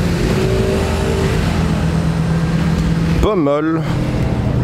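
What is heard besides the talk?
sports cars driving past, MG GT and GT3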